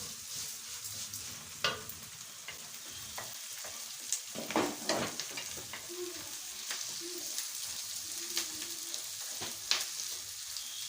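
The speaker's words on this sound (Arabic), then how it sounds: "هجيب الرز اللي هو الشعريه بتاع الرز اللي انا هحمرها اهي، واحطها كده على العين دي، احمر الشعريه" Rice vermicelli browning in a pan on the stove, with onion cooking on another burner, makes a quiet, steady sizzle and occasional clattering stirs and utensil knocks.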